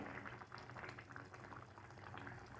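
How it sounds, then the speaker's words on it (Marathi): Quiet, continuous bubbling of a dried Bombay duck and potato curry boiling in a pot, soft popping bursts at a close distance. "तुम्ही पाहाल तर मस्त उकळी आलेली आहे"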